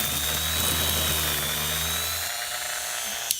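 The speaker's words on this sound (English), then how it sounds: "we can drill in and through a piece of foam." A high-pitched 1.5 amp variable-speed rotary tool whines steadily as it drills through a piece of foam, then cuts off abruptly near the end, leaving a faint hum and a brief click.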